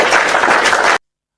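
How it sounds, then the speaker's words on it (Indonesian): Short burst of loud applause from an audience, dense clapping that cuts off abruptly after about a second, followed by silence. "Tepuk tangan buat Rosa yang cantik dan manis."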